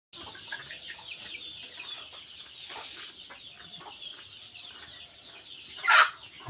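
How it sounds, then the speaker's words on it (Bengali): Chickens cluck softly and continuously while being fed on a very hot day, a low murmur of close calls with one louder squawk near the end. "তো প্রচণ্ড গরম, মুরগিগুলোকে খাবার দিচ্ছি।"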